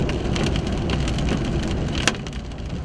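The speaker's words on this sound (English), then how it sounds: "Getting a little hail now." Hail falling during a tornado storm near Dimmitt, Texas, a dense steady rattle of stones and rain on a surface, loud and continuous, with one sharper hit standing out.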